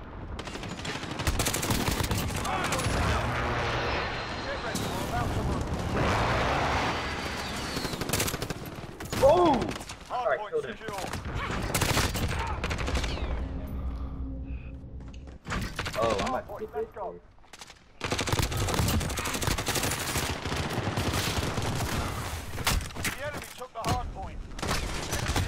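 Video game combat with a precision airstrike: bursts of rapid gunfire and explosive blasts come in dense waves, broken by brief lulls, loud and close, with some voices underneath.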